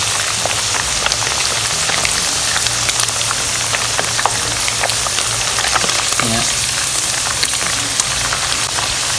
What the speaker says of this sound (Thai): ผมจะทอด แบบใช้น้ำมันนะครับในกระทะก่อน